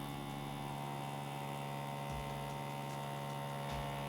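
A tattoo machine needle running at a steady, quiet electric hum with a faint mechanical buzz, continuous throughout, with a couple of soft low knocks and no talking.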